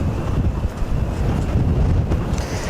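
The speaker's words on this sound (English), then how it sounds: "you can hear the wind blowing there" Strong gusting tornado-storm wind buffets the microphone in a dense, rumbling roar, steady and loud throughout with no voices.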